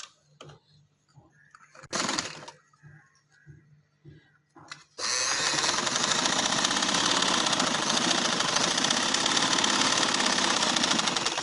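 Sewing machine stitching frock fabric, opening with a few quiet handling clicks and a short whirring burst, then a loud continuous close-up motor hum and needle rattle running steadily to the end.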